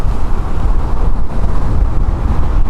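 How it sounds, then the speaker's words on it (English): Strong outdoor wind buffets the microphone while someone rides an electric wheel, a loud continuous low rumble with no voices. "It's kind of windy."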